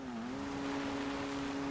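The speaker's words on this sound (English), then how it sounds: "this little car has some rather impressive engine braking" The small Karin Everon car in GTA Online engine brakes with a smooth, steady engine drone and a slight dip in pitch, heard close and alone.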